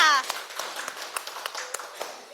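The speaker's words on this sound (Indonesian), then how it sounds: "tepuk tangan dulu buat kita" A school class claps for a teacher during a theatre arts lesson, sparse scattered handclaps at close range, fairly soft and uneven after a brief voice at the start.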